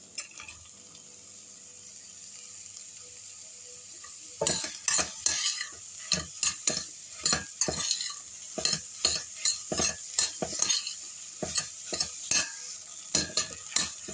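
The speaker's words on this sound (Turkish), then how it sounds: "Unun kokusu çıkana kadar kavurdum ve şimdi üzerine mantarları ilave ediyorum." Flour and mushrooms being sautéed in a pot for chicken mushroom soup: a quiet sizzle at first, then a run of sharp, rhythmic spoon scrapes and stirring clatter against the pot, close and steady, with no talking.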